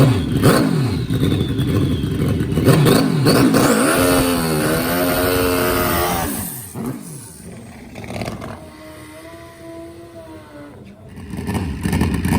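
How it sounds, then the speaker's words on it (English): A turbocharged Suzuki Hayabusa drag motorcycle at a drag race, loud revving that climbs in pitch through a hard acceleration run, then fading away into quieter engine noise in the distance. "Here comes our number one qualifier, ladies and gentlemen, Craig Brown and his turbocharged Suzuki Hayabusa"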